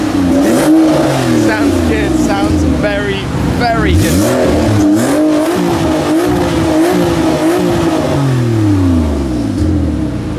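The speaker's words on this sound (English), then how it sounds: "brand new W Motors FENYR SUPERSPORT, burbling away" A W Motors Fenyr Supersport flat-six fitted with a Kline exhaust revs repeatedly up and down, loud and close, burbling between blips, while someone speaks briefly over it.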